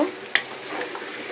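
Meat and hard vegetables fry in a pan for a vegetable khichuri, giving a short burst of continuous close sizzling with one quick stirring knock near the start.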